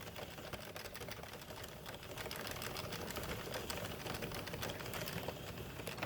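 An Addi 46-needle knitting machine is cranked steadily through rows of plain knitting for a toque, giving a continuous close mechanical clatter and whir with dense rapid clicks that grows slightly louder after the first couple of seconds.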